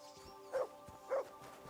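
Two short, clear barks from a dog in the medieval role-playing game Kingdom Come: Deliverance 2, evenly spaced about half a second apart over a quiet background.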